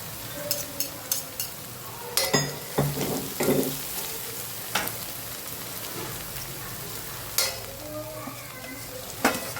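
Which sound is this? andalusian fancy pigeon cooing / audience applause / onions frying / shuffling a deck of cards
onions frying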